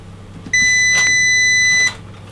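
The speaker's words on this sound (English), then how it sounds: "let me just go into the beep range now" A multimeter in continuity mode gives one steady, loud electronic beep lasting over a second while its probes test a coil on a MacBook Pro A1278 logic board with a no-power fault. Faint background noise surrounds the beep.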